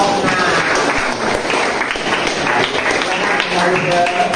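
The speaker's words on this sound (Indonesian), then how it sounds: "Kita beri tepuk tangan untuk kelompok" A high school class claps for a student group during a math lesson, a dense, steady patter of hands lasting throughout, with voices mixed in.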